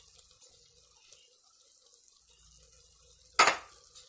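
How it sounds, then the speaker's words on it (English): Canned stewed tomatoes are poured into a cooking pan, giving one short, wet splash near the end after a mostly quiet stretch with faint kitchen clatter. "That can of stewed tomatoes. Pour all that in there."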